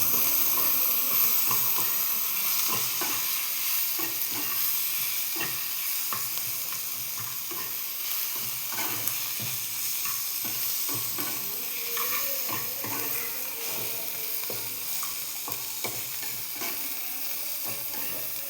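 Salted food is stir-fried in a pan, giving a continuous loud sizzle and hiss with frequent small scrapes and taps from stirring throughout. No voices are heard.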